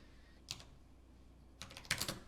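Computer keyboard typing in a Blender session: a single keystroke, a pause, then a short cluster of quick clicks, close and fairly quiet.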